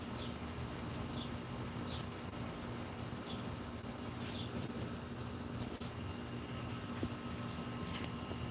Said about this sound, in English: That is one angry cicada bug.